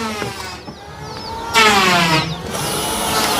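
Power drill boring holes in metal sheet roofing before nailing, with two loud bursts of whirring drilling separated by short pauses, close up.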